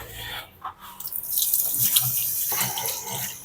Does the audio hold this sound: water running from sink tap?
yes